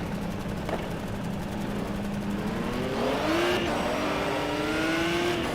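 A racing car engine in a racing simulator game during free practice, loud and close, its revs climbing steadily in pitch as the car accelerates, with no talk over it.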